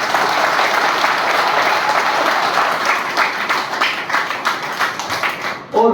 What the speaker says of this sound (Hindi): एक बार अपने लिए तालियां बजाएं।